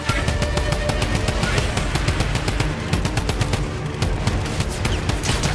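Rapid automatic gunfire rattles nonstop in a Fortnite match, a dense, loud stream of evenly spaced shots with faint booming underneath and no talk over it.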